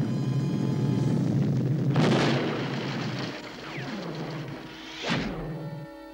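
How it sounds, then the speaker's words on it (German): A Smurfs cartoon explosion booms out in a loud, broad burst, then a second blast follows a few seconds later as the roar trails off between them. "das wird gleich explodieren!"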